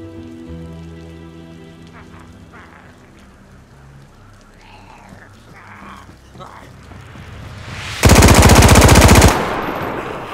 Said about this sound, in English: First legit kill with the new gun.